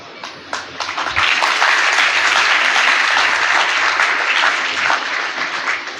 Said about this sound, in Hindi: किसकी तालियां बजाई आपने?